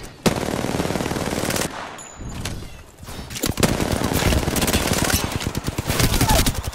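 Rapid bursts of automatic gunfire in the video game Apex Legends rattle loudly, breaking briefly near the two-second mark before resuming in dense, sustained volleys.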